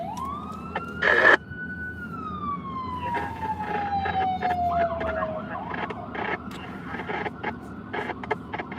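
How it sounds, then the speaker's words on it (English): An ambulance siren sweeps up, then wails in a long falling tone before shifting into quicker rising yelps, fairly close, with brief bursts of radio static and traffic noise around it. "You got an ambulance here."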